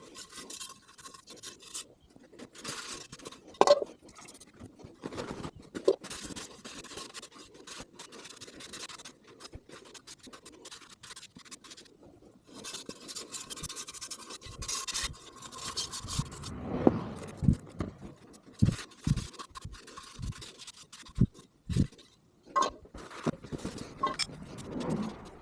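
Old, crispy gasket residue scraped and wire-brushed off a 1500cc air-cooled Volkswagen engine, giving irregular scratchy rasping strokes with occasional sharp knocks. It is close but fairly quiet.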